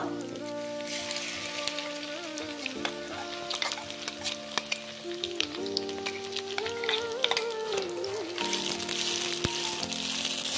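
Thick ground green pea paste sizzles and bubbles steadily in a hot pan with ginger, cooked on low heat for kachori filling, with occasional scraping and stirring and soft tonal background music.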